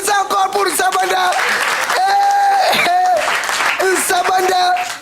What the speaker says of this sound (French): Applaudissez encore pour Sabanda